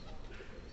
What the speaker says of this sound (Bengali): ডাক খুব সুন্দর ডাকে, এই দেখেন কবুতরগুলো দারুণ ডাকে